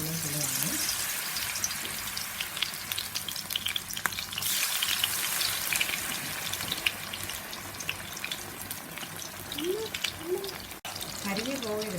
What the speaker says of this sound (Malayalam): അപ്പോൾ നമ്മൾ സ്റ്റഫ് ചെയ്ത് വെച്ചിരിക്കുന്ന മുളക് ബജ്ജി, മുട്ട സ്റ്റഫ് ചെയ്ത് വെച്ചിരിക്കുന്ന മുളക് ബജ്ജി നമ്മളിലേക്ക് ഇടുകയാണ്.